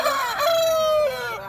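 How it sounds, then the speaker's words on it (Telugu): A Parla breed rooster at the Nallapadu poultry market crows once, loud and close, in a single drawn-out call lasting about a second and a half. "ప్రజెంట్ మనం చూస్తుంది పర్లా జాతి అండి, ఇది కక్కిర అంటారు."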